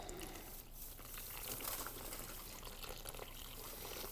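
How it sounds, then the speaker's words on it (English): Water poured gently from jugs into the middle of a sediment-filled hole, washing the sediment away at a geology site near the Wichita Mountains; a steady, continuous pouring and trickling wash that runs at an even level throughout. "We're going to pour right in the middle, okay, gently, and we're going to wash away all of this sediment."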